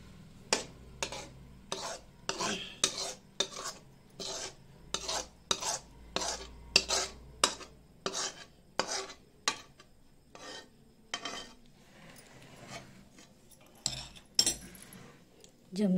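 Mawa barfi scraped out of a pan onto a plate, a steady run of loud, rhythmic metal scrapes and clinks from a spoon against the pan, about two per second, thinning into softer rubbing near the end.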